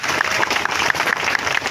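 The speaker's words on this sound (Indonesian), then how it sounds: "Tepuk tangan untuk kita semua di sini." An audience of young people at a talk event in Aceh applauding together, a loud, dense, continuous clatter of many hands with a few sharper individual claps standing out.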